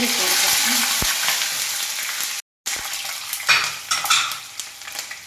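Curry leaves dropped into hot oil with fenugreek seeds for lemon pickle, a strong frying hiss with a brief utensil clink, a short break, then crackling spatters and stirring.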